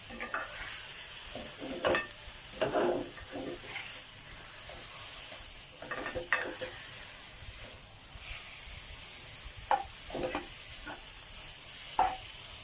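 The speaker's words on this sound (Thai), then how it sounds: "พอใส่เนื้อปลาเต๋าลงไปผัดก่อน" Diced grouper pieces are stir-fried in a pan without oil, giving a quiet, steady sizzle broken by repeated scraping stirs of a utensil against the pan, with no one talking.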